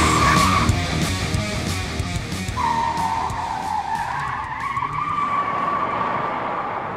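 A car skids with a long, loud tire squeal that wavers in pitch over a steady engine roar, continuous and close throughout.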